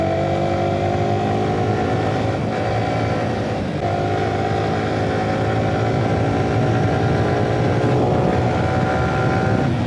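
Motorcycle engines roaring continuously on a group ride, a steady loud drone with rising revs as a bike makes a close fly-by past the other riders, no talk.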